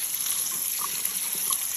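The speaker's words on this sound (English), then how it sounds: "add fresh water," A steady stream of fresh water pours and splashes continuously into a pot of beans, close by, with no voices.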